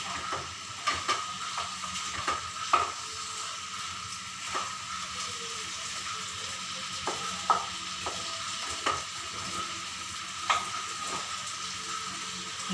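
Pongal being stirred in a cooking pan: a spoon scrapes and taps the pan in an irregular rhythm over a steady soft sizzle, close and fairly clear.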